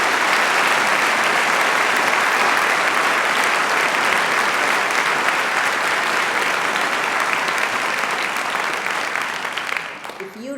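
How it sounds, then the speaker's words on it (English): Thunderous applause from a large audience at a university president's fall address, dense and loud clapping sustained for about ten seconds before starting to thin out at the very end. "let's give her a round of thunderous applause."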